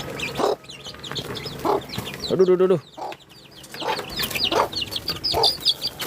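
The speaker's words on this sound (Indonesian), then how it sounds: "ayam-ayamnya sudah menunggu nih" Backyard chickens at a home poultry farm cluck in repeated short bursts while waiting for feed, close and fairly loud, with a brief exclamation from a person among them.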